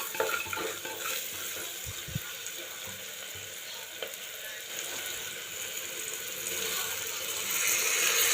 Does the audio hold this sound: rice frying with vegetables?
yes